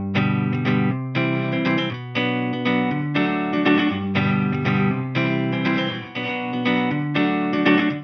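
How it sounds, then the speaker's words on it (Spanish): Electric guitar played through a free VST amp simulator's software pedalboard with reverb, ringing out as loud, sustained strummed chords that change in a steady rhythm, close up and alone with no talking. "también podemos usar esta otra pedalera con más efectos, por ejemplo con un efecto de reverb."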